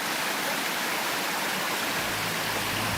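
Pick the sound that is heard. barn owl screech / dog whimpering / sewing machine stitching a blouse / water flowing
water flowing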